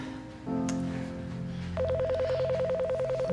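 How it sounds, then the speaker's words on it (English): Telephone ringing with a rapidly warbling electronic trill that comes in after a sustained musical tone and repeats steadily, fairly loud and close. "The phone, it's ringing."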